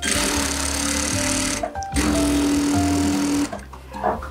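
A domestic sewing machine stitches the edge of a tea towel for a fabric bread basket, a loud close steady whirring run that stops briefly, restarts, then halts near the end.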